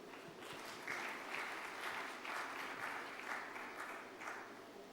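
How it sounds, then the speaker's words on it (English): Audience applause for Nandini at the SADC Sustainable Energy Week 2024, a fairly faint, steady patter of many hands clapping from a distance, continuing evenly throughout. "A huge round of applause for Nandini."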